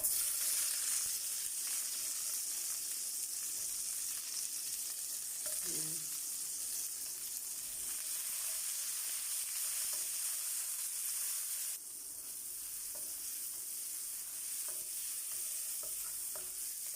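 Garlic and tomato sizzle and fry in a pan while being stirred, a steady close hiss with occasional scraping clinks throughout, no talking.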